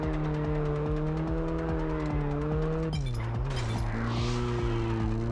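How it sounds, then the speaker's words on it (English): Car drifting in Test Drive Unlimited: a loud, steady engine drone breaks midway into a harsh burst of tire squeal and skidding as the revs drop, then the engine settles back into a sustained tone. "That was a sick drift."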